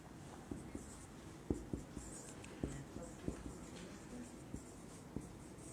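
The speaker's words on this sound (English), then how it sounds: "Now I am writing another rule." A teacher writing a grammar rule on a board, faint scratchy strokes with occasional sharp taps, under quiet room noise and a low murmur of voices.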